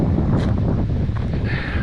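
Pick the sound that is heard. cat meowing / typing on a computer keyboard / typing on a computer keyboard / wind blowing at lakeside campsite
wind blowing at lakeside campsite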